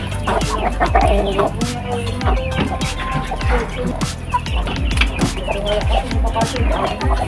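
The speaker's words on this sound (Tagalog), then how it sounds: "Dito na ang mga manok." Chickens cluck and squawk busily at feeding time on a rural farm, many birds close by at once, with a dog barking and people talking among them.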